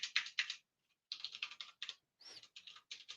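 Rapid keystrokes clatter on a computer keyboard in quick bursts, with brief pauses between runs of typing, close and crisp with no voices.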